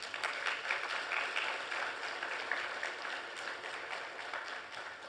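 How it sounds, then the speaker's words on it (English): A room at a Ministry of Trade, Investment report event applauds ministry officials with a steady, even round of many hands clapping that stays moderately soft and somewhat distant throughout and tapers near the end. "I think they deserve a round of applause"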